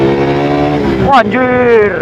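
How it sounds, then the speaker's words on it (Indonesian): A Suzuki motorcycle engine revs loudly and up close, holding a steady tone that climbs briefly before settling, while a man makes a short exclamation over it. "Coba kita tarik nih motornya teman-teman ya."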